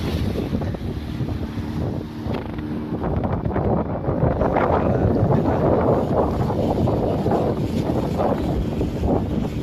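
A fiberglass boat rushes through water with a loud continuous roar of spray and engine, while strong wind noise batters the microphone throughout.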